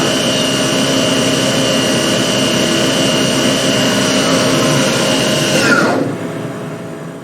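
CNC mill cutting an aluminium-style handlebar cap for a kill switch on a Ducati 860GT motorcycle, a loud steady spindle whine with a dense metallic hum that abruptly drops off near the end.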